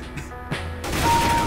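Gunfire in CS:GO, a couple of sharp shots followed by a louder dense burst of firing and crashing noise.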